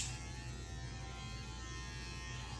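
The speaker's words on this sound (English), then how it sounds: "I take my blade on the clipper, I adjust it halfway down" An electric hair clipper with its blade adjusted halfway down buzzes steadily during a child's haircut, a constant close-up hum with no speech over it.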